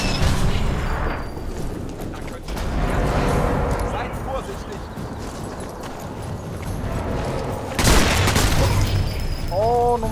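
Several sharp gunshot bursts from a video game, one louder blast near the end, with people talking over the action.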